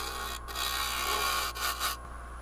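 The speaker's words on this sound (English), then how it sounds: "it is just coming off in little sawdust flakes at this point. And it's a very sharp gouge" A very sharp woodturning gouge shaves spalted oak on a spinning lathe, throwing off fine sawdust flakes. The cutting makes a continuous close rasping hiss that swells and briefly dips a few times.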